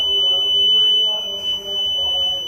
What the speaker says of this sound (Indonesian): buzzernya akan berbunyi